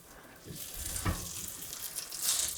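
French toast frying in a pan gives a close, steady hissing sizzle. It briefly swells with a soft thump as the slice is flipped, then the sizzle grows a little louder.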